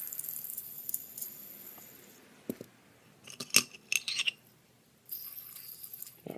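Skateboard bearings set down on a rag make small metallic clinks and light rattles, close and quiet, in a few separate clusters with near-silent handling between them.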